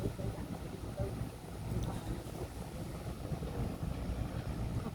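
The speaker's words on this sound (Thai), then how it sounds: "เรือก็วิ่งไปนู่นแล้ว ชวนกระแสน้ำนะคะ วิ่งชวนกระแสน้ำก็จะไปได้ไม่เร็วเนาะ" A tugboat towing a barge on the Chao Phraya River near Phra Nakhon Si Ayutthaya, heading upstream against the current; a steady low engine rumble and water noise under wind buffeting, fairly quiet and continuous with no talk.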